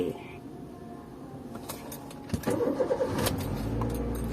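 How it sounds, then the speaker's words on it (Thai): A Honda Jazz GE cranks briefly and catches, then settles into a medium idle with a few light revs. Someone speaks quietly before the start. "ลองสตาร์ทรถ ดูนะครับ"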